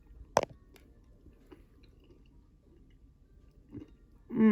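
Candied bacon cooked in a Ninja Foodi XL Grill air fryer, bitten with a sharp crunch and then chewed quietly up close in a hushed room, before a voice starts at the end.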